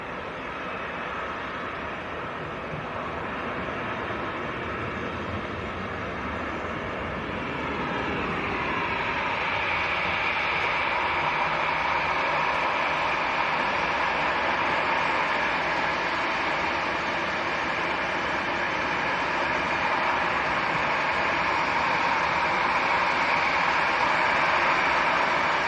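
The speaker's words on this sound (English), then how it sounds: "This is EasyJet to Barcelona, A320." An EasyJet Airbus A320 bound for Barcelona at Manchester Airport: a broad jet engine roar that swells after a few seconds and holds steady and loud, with no voices.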